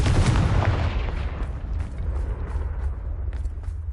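Fire spell explosion from Hogwarts Legacy: one loud, close blast with a deep booming low end, decaying into a rumbling tail over a few seconds.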